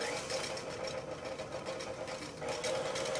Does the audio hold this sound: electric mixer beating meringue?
yes